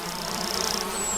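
Honey bees buzzing with a steady, close insect drone over a low background hum, one bee whining past near the end.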